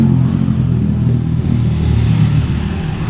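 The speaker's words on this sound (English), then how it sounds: "Motorbikes are loud." Loud motorbikes and other vehicles in Thai street traffic, a dense close rumble of engines with steady revving throughout and no speech.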